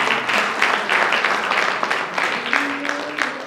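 Steady applause fills a pastors association meeting, with many hands clapping together in a continuous roar, while a voice speaks faintly over it near the end.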